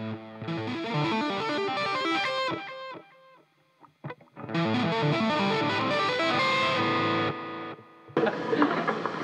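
Heavily distorted electric guitar plays chords and riffs, with a short pause of quieter picking before loud driven strumming resumes.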